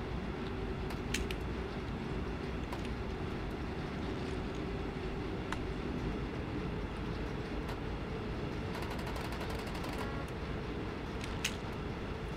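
A train rolls steadily over track in Train Simulator, a continuous low rumble with faint rhythmic clicks and occasional metallic ticks, with no talking.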